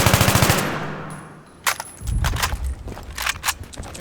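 AEK rifle firing full-auto in Battlefield 3: a loud opening burst of rapid shots, a short pause, then several more clattering bursts close up.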